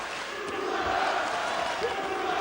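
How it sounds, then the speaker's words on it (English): A boxing crowd chants for its fighter, a dense, continuous roar of many voices filling the arena with a steady rhythmic swell. "Crowd chanting their hero again."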